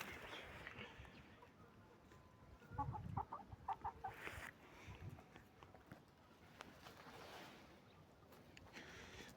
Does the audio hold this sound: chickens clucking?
yes